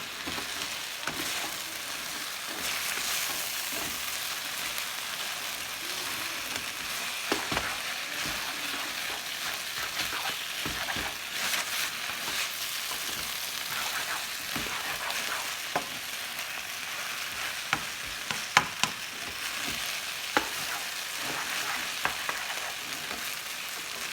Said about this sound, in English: Make it like a stir fry out of noodle soup.